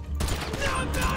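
Gunfire in GTA V during the Cayo Perico heist on the island, a dense burst of shots rolling continuously across the moment under a steady game soundscape.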